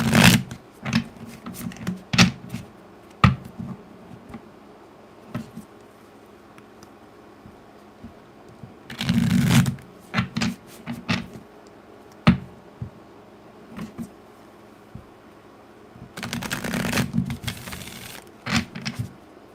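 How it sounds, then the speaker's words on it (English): A full-size tarot deck is shuffled by hand in quick riffling bursts separated by pauses and scattered single card taps, close and fairly loud, with no talking. "I have small hands and it's hard for me to shuffle full size decks."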